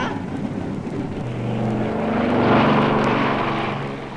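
Aeroplane engine sound effect on a children's vinyl record, a propeller drone swelling from faint to loud and holding steady, with a low hum underneath.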